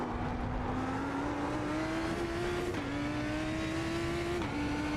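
Lamborghini GT3 race car in a racing video game at Sebring, engine droning loud and continuous with pitch climbing through the gears and dropping at two upshifts.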